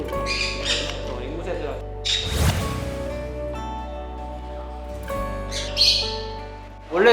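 Parrots squawk and call at a parrot zoo set in a converted closed school, with several harsh bursts rising over a steady low background hum and music-like tones.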